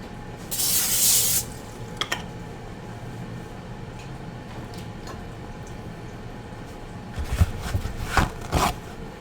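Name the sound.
spraying cooking spray onto a baking sheet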